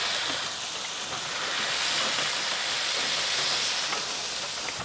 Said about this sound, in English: We're going to go ahead and sprinkle on some onions on there. Before the flip, press those down into the burgers a little bit.